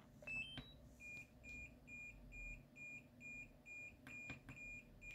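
A DJI Mini 2 or Air 2 drone controller buzzer sounds a repeated short, high electronic beep in an even rhythm, about two per second, faint and thin over a soft background hum, with a few clicks near the start and end.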